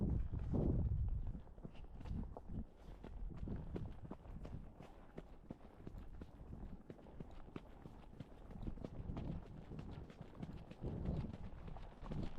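A horse trots along and its hooves clip-clop in a quick, steady rhythm, close by and fairly faint, with no voices over them.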